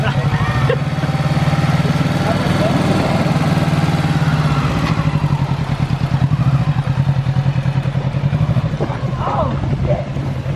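A 2020 Kawasaki Z650 motorcycle engine idles and revs gently on a first ride, a steady close rumble under the occasional voice.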